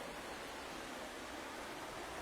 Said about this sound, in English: We're coming to another little waterfall along here.